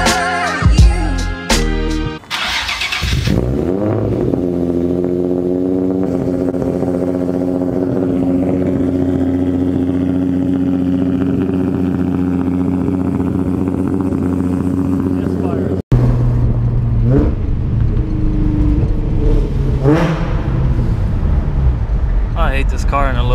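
A cammed Nissan 350Z that is running poorly revs loudly up close, holding a long rough droning pitch with sputtering, then rising and falling revs over wind noise.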